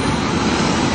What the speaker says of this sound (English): Go ahead and slow the plane down.